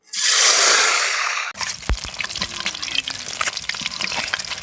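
Four duck eggs dropped into hot oil: a loud, bright hiss of frying rises at once and then drops away, followed by a quieter, steady crackle with scattered pops, heard up close with no talking.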